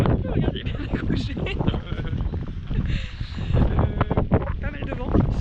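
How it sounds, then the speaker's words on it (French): Strong wind buffets the microphone on a coastal hike around Belle-Île-en-Mer, a loud continuous rumble with gusting surges, and someone talks over it. "Pas mal de vent et de face toute la journée"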